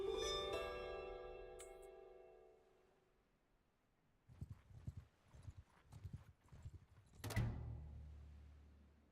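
Horse hooves clip-clopping in the Mount & Blade Bannerlord video game, a run of close, rhythmic hoofbeats after a ringing tone, ending with a sharp thud and a lingering low rumble.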